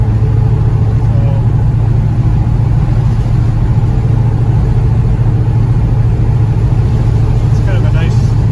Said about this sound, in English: it's kind of a nice driving car, nice running car.